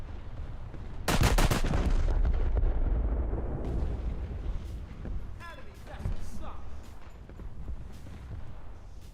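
Warship guns fire in a naval video game, a loud booming salvo followed by rumbling blasts and shell impacts that stay heavy for several seconds, with a few more distant bangs later.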